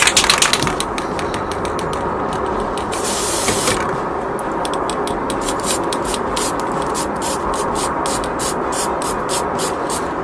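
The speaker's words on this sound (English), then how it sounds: "we're just going to spray each little pine cone here" Krylon metallic copper spray paint hisses from the can onto small pine cones, one long continuous blast followed by a rapid series of short, loud bursts, close to the microphone with no talking.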